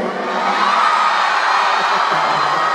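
A crowd of people shouts and cheers in a loud, steady roar of overlapping voices and whoops that does not let up.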